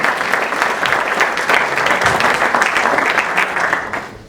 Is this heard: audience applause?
yes